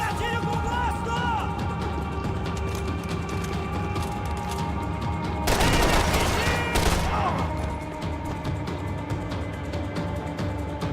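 Shotgun blasts in the video game Max Payne 3, a burst of loud overlapping shots bunched together midway, set against steady game noise.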